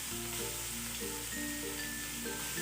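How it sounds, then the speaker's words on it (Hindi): Finely sliced onions cooking gently in ghee and oil, a steady, even sizzle and hiss with a faint hum underneath, close and continuous without talk. "2 अदद प्याज जो मैंने बारीक स्लाइस की थी वो मैंने शामिल कर ली घी के अंदर, ऑयल के अंदर"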